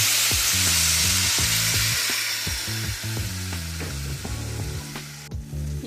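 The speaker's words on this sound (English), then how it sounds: "Next, we're going to add in our beef broth." Beef broth goes into a sizzling pan of hamburger gravy, bringing a loud, bright hiss and crackle that slowly fades as the liquid settles, with rhythmic low clanking from the pan throughout.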